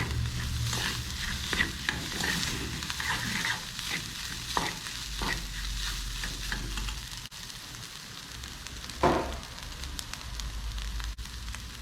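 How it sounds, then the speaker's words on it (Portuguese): Textured soy protein fries in a pan with a constant close crackling sizzle, broken by repeated scraping stirs of a utensil, with no voices. "Sempre mexendo por não grudar e acabar queimando ao invés de"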